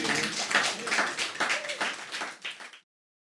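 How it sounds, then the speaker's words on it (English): An audience at a public meeting breaks into a short burst of clapping, close and fairly loud, fading and cutting off after nearly three seconds. "Round of applause for that."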